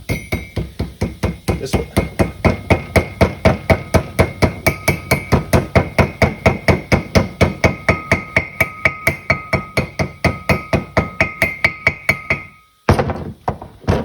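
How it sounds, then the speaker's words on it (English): Hammer tapping a metal seal into a trailer wheel hub: a long run of rapid, evenly spaced metallic taps, loud and close, stopping abruptly before a brief final sound; a voice speaks briefly. "if I'm careful not to distort the metal portion of it, I can just tap these in"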